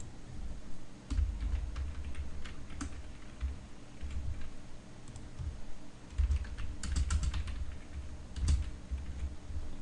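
Steady typing on a computer keyboard while entering text in PHP code, a continuous patter of soft key taps heard alone at close range.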